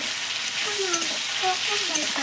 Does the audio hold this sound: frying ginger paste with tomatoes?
yes